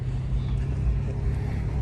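A 4.0 liter V6 engine in a 2012 Toyota FJ Cruiser Trails Team Special idles steadily, a low continuous rumble that stays even and close for the whole stretch, with no voices over it.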